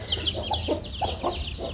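A brown hen, about to be set on a clutch of eggs, clucks close by in a steady series of about six short clucks over a low background hum.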